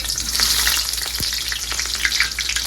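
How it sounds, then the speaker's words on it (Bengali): Dried chili, bay leaf and a little onion crackle and sizzle in hot mustard oil in a large wok, a loud, steady close hiss with scattered pops throughout. "গরম হয়ে গেছে, দিয়ে দিব শুকনো মরিচ, তেজপাতা আর সামান্য পেঁয়াজ।"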